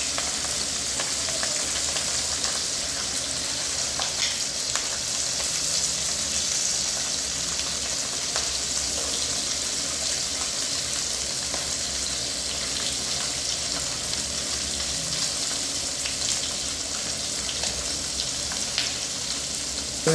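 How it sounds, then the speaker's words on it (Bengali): Pabda fish fry in hot oil with a constant bright sizzle, dotted with small spattering crackles, close and steady, with no talking. "পাবদা মাছ একটু ভাজলে বন্ধুরা একটু সাবধানে, কারণ এখান থেকে প্রচুর তেল ছিটকায়"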